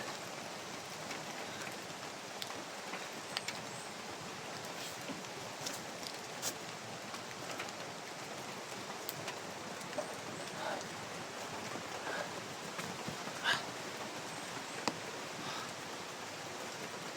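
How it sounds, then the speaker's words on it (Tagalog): Heavy rain falling steadily outdoors in the Philippines, a dense, even hiss of drops on surfaces that runs unbroken throughout, with scattered louder spatters and no voices. "makisilong na po dahil ang lakas ng ulan"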